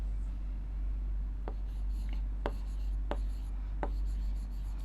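Pen or marker strokes on a board or paper during a maths lesson, a handful of distinct scratching marks spaced out over a steady low hum, with no speech.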